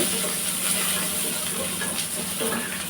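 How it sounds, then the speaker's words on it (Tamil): Chopped onions frying in hot oil after mustard seeds: a continuous, fairly loud hissing sizzle that stays steady throughout, heard alone. "இப்போ கட் பண்ணி வச்ச வெங்காயத்தை ஆட் பண்ணிக்கலாம். நல்லா வதக்கிட்டு"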